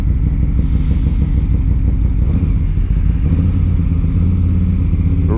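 A Moto Guzzi motorcycle with a horizontal engine idles loud and close, its deep, uneven rumble throbbing steadily throughout, with no one speaking.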